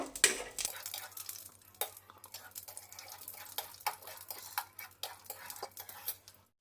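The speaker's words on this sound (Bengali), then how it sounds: "ওই তেলের মধ্যে আমি চিনে বাদামটা দিয়ে দিচ্ছি চিনে বাদামটা ভেজে নেব" Peanuts stir in hot oil in a pan over a lowered gas flame, with soft scraping and clinking of a spoon against the pan in irregular strokes, quiet and close, with no talking.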